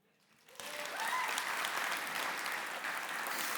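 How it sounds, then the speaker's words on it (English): Sudden applause bursts from a conference audience after a quiet moment, a dense, sustained round of clapping that holds steady and fairly far off in a large room. "let's hear a round of applause"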